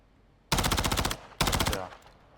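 Two sharp bursts of rapid automatic gunfire in Call of Duty Warzone Mobile, loud and close, each lasting under a second with a short gap between, followed by quiet.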